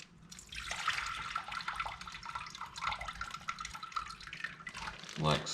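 Aquarium tank water is poured from a bag into a jar for coral acclimation, a close, soft splashing and trickling flow with drips that rises and falls over several seconds, ending in a brief gurgle.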